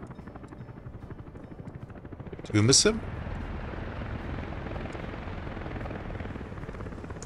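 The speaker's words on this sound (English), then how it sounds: "Oh, helicopter's coming." A helicopter drones with steady rotor chop throughout, with a brief loud burst partway through and a person speaking over it.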